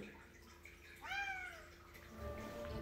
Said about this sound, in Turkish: Kedim. Sev sev sev beni diye bağırıyor duyduğunuz gibi.